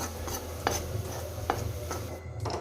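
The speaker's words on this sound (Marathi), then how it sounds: "बेसनाचं पीठ घेतलं होतं ते आपल्याला आता थोडंसंच म्हणजे एकदम थोडंसंच भाजून घ्यायचं आहे" Gram flour dry-roasting in a pan, stirred with a spoon that scrapes and taps the metal in a few soft, regular strokes over a faint background hum, with no voices.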